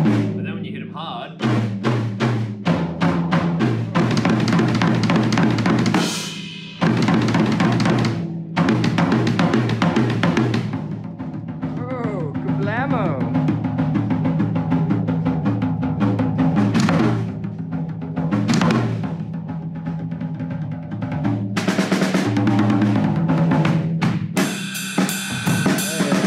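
High-tuned drums in a drum rig struck hard, a dense run of loud, ringing tom and snare hits with crashing cymbals filling most of the stretch, played continuously with short breaks between fills.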